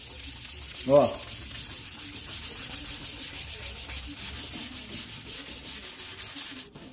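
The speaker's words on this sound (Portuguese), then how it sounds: "Eu vou lixar com a Rokit, para vocês darem uma acompanhada." Sandpaper scrubbing over cured polyester body filler on an auto body repair, a steady close rasping rub throughout with one louder stroke near the start and a brief spoken word.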